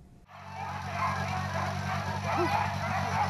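Sled dogs bark during an annual dog sled and ski race on the Kamchatka peninsula in Russia. Scattered barks and yips carry over a steady outdoor hum and crowd noise.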